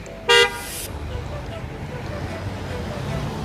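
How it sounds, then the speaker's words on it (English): A single short car horn toot on a busy city road under bike lane construction in Hamilton, loud and brief against a steady rush of passing traffic. "there's always honking everywhere"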